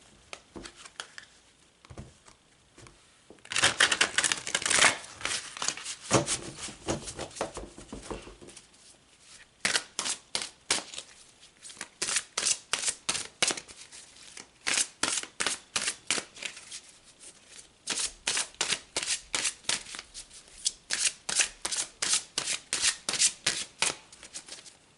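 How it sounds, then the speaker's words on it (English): Cards are shuffled for a card reading, in repeated bursts of crisp riffling and rapid flicking, close and fairly loud, separated by short pauses, with no talk. "So let's pull some more cards."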